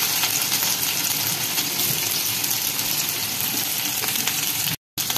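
Garlic and onions sizzle steadily in a hot pan, a dense close crackle that runs without pause until a sudden brief cut near the end.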